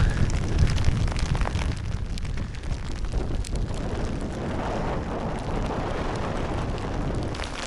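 Heavy rain pouring down on open ground in Mongolia, a dense, continuous roar of falling water with gusts, loudest at the start and steady after, with no voices.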